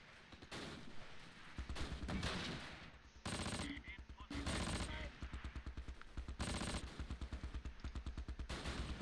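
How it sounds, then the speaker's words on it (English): Sustained machine gun fire from a World War II battle in the strategy game Close Combat Last Stand Arnhem, rattling in long rapid bursts with heavy gunfire thuds throughout, loud and near, with no talk over it. "And the mortar, we got machine gun fire coming out of here."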